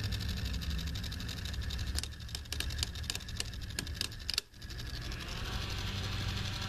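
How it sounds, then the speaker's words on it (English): Refrigerator evaporator fan and compressor running after the defrost timer is advanced out of defrost: a steady low hum with a constant mechanical drone, interrupted by a few clicks and a brief dip midway before the steady running resumes. "And the fan and the compressor are on."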